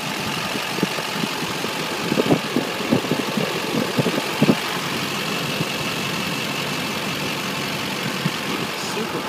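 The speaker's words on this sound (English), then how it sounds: "Super quiet for the diesel." A 2005 Chevrolet Silverado Duramax diesel idles with a steady, fairly quiet low rumble, while a person talks faintly nearby and light handling noises come and go.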